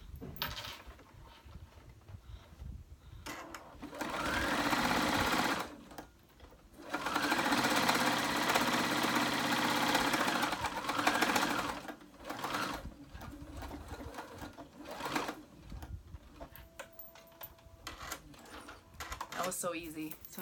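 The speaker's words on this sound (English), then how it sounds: "And now I'm gonna go ahead and stitch it up right along that edge." A sewing machine stitches along the open outer edge of a fabric Christmas stocking. It runs in several bursts of steady, close whirring, with short pauses between them.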